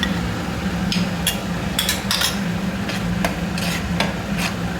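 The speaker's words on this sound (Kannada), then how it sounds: "ಸ್ವಲ್ಪ ಫ್ರೈ ಆಗಲಿ" Masala pasta sauce with tomato ketchup fries in a pan, a steady low sizzle broken by repeated quick scrapes and taps of a spatula at a moderate, close level.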